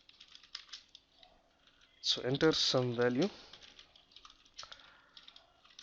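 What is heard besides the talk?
typing on a computer keyboard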